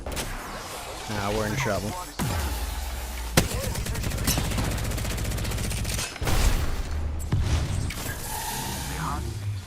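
Video game gunfire in a ghost-themed shooter, with bursts of rapid shots and loud blasts through the scene and a synth-like musical wash behind. A voice speaks briefly over the shooting.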